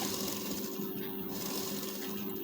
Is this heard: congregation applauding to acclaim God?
no